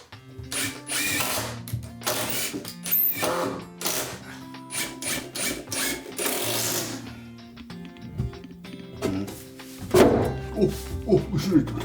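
A carpenter drives screws from below into wooden shelf boards resting on shelf supports in a built-in Buddhist altar. Repeated bursts of a power driver whir and rattle, broken by short pauses, with a louder burst near the end.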